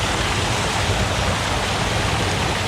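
A small waterfall in a creek pours in a steady, close, unbroken rush of falling water, with no voices.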